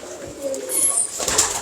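Pigeons cooing close by in a loft, soft low coos with a brief wing flutter and light chirpy sounds over them.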